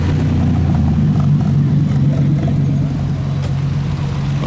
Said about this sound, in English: VW campers, they're wicked.